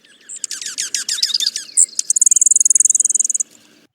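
Played recording of a junco's raspy call, a series of high, dry chirps and trills that ends in a fast, even buzzy rattle of about twenty rapid notes, clear and close with no voices.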